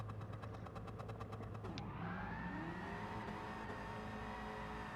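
A Dodge Charger SRT in the racing game GT Sport launches from a drag start, its engine rising from a rhythmic idling burble into a loud, sustained climbing roar as it accelerates, with no speech.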